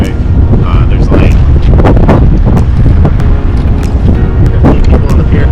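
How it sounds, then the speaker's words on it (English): Strong wind buffets the microphone on a crowded fishing pier, a loud, steady low roar with gusting rumbles throughout and no break. "It's really windy."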